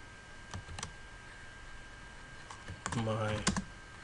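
Scattered keystrokes click on a computer keyboard while a remote backup directory is set up on CentOS 7, faint and close, with a brief low voice murmuring in the middle of a quicker burst of typing.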